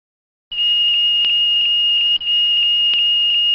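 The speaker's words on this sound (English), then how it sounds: "The smoke detector audible alarm and red alarm indicator light come on to indicate that smoke has been detected in the lavatory." A Boeing 737NG lavatory smoke detector sounds its alarm: a loud, continuous high-pitched electronic tone that begins abruptly, drops out briefly, then resumes, heard close and alone.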